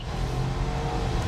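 A Jeep Grand Cherokee V8 with an 8-speed transmission accelerates hard, its engine roaring steadily and loud at close range with a dense, unbroken rumble and no talk.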